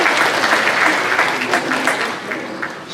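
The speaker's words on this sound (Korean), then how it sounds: "박수로 환영하겠습니다." A church congregation claps in welcome of guests, a full, continuous round of applause that holds steady and eases slightly near the end.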